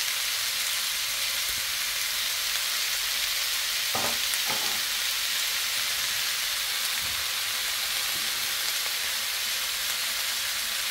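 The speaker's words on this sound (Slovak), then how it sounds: "Chvíľu ešte orestujeme" Steady, dense sizzle of a sauce sautéing in a pan for a mildly spicy pasta dish, continuous and fairly loud, with a couple of brief scraping stirs near the middle and no talking.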